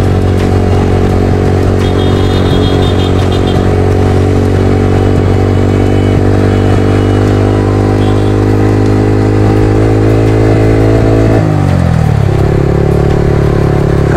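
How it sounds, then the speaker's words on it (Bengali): A Yamaha R15 V3 motorcycle fitted with an aftermarket exhaust runs close and loud with a steady, throaty engine drone that holds for about eleven seconds, then drops sharply in pitch and settles lower. "একটা বিপদে পড়লাম, তার মধ্যে ওর বাইকে হচ্ছে এক্সস্ট লাগানো"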